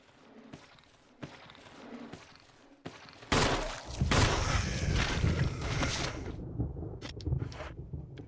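Gunshots in Resident Evil 0: several spaced single shots ring out at first, then a loud sustained burst of impact and crashing noise that fades into scattered sharp hits.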